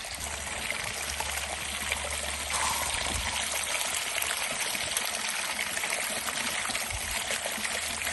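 Water rushes continuously through a high banker gold sluice, a steady close wash of splashing and trickling that keeps going throughout with no pauses and no talking.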